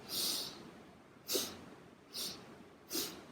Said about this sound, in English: But sniff the air in and out.